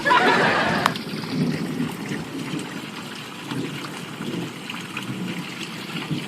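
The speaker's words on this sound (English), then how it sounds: "It's raining pretty good. It's coming down." Steady rain patters and trickles outdoors at a lake, with water dribbling close by and a brief splash at the start.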